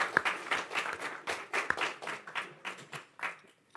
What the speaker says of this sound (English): We're going to clap for that.